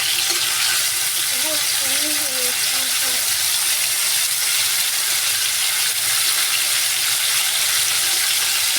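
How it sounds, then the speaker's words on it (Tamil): Tomatoes and ten garlic cloves frying in a little oil, a steady broadband sizzle close by and continuous throughout, with someone briefly talking over it early on. "லைட்டாக ஆயில் ஊற்றி தக்காளி போட்டு 10 பல் பூண்டை போட்டுருங்க. போட்டுட்டு நல்லா வதங்க விட்டுருங்க."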